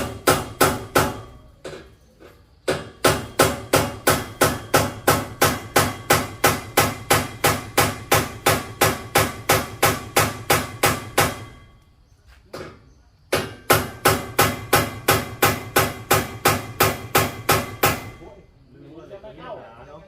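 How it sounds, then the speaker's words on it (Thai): A hammer strikes through thick steel in rapid, regular blows, loud and close, in two long runs separated by a short pause, with a few scattered knocks before and a little muffled activity at the end. "ตีจ่อไว้ก่อน ให้มันทะลุเหล็กนะพี่"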